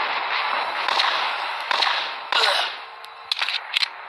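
Sharp gunshots in a Dead Warfare zombie shooter video game, with bursts of loud cracking shots and broadband bangs near the end over a constant wash of game noise.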